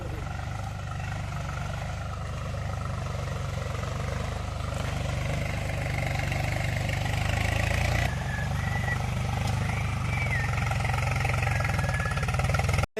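A tractor engine runs in a farm field with a steady low mechanical drone, near and fairly loud, holding even for the whole stretch until a sudden cutoff at the very end.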